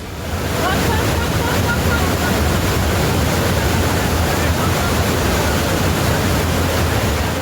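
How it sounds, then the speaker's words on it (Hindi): Floodwater rushes through rivers and streams swollen by monsoon rains, a loud, continuous broadband roar like heavy surf or wind that holds steady throughout. "नदी नाले उफान पर हैं"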